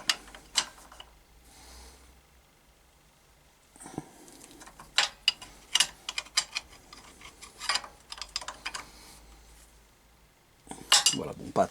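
A wrench tightens an aluminium gearbox drain plug, giving quiet scattered metallic clicks and ratcheting ticks close by, in irregular bursts with pauses between, ending in a sharper clatter.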